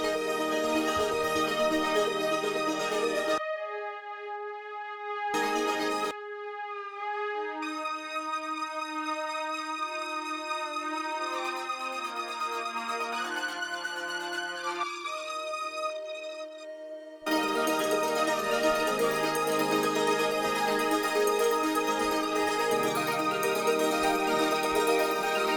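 Outro of a self-produced pop song, built from dense layered arpeggios over full instrumentation, loud and continuous, thinning to a sparse melodic break midway before the full arrangement returns.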